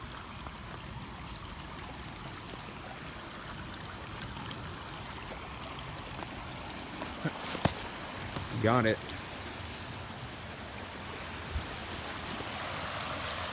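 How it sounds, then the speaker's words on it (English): A very small waterfall flowing outdoors, a steady broadband rush of water running throughout with a brief spoken remark and a few sharp clicks partway through. "It's the most tiny waterfall ever."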